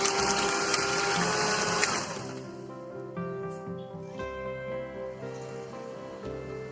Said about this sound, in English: Add sugar gradually into the mixture and continue whisking.